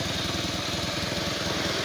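Bajaj CT 100 motorcycle engine, which has a fault that makes it stall once it warms up, running steadily with a rapid, even putter, loud and close, with no voices.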